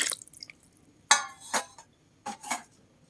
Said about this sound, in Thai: น้ำปลาใส่เลยจ้า ใส่สามทัพพี่ก่อนจ้ะ